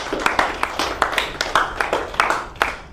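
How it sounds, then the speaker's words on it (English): An audience claps in a steady, rhythmic pattern after a Hurricane Katrina talk, sharp regular claps repeating about every quarter second, moderately close, with no talking over them. "Let's clap it up for my guy, man."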